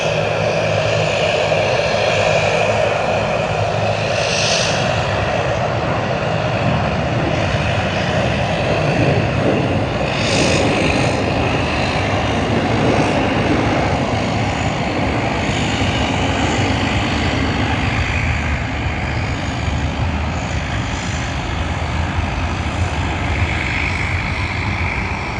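A Cathay Pacific airliner, flight CX161 from Hong Kong, arrives at Sydney Airport with a continuous loud jet roar that holds steady for the whole stretch, broad and rushing, with no voices.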